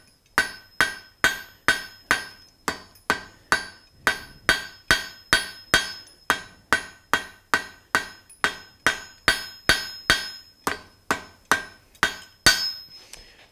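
A blacksmith hammers a forge weld on a fire poker, steady ringing metal-on-metal blows repeating about twice a second, close and clear, with each strike decaying into a bright clang before the next.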